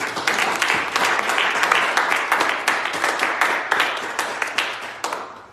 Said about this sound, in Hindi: उसका शुक्र करें तालियों के साथ।